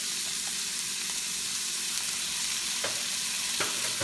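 Garlic sizzles and fries in a pan with onions for lechon kare kare, a steady broadband crackle with a few sharper pops and stirring scrapes, close and continuous.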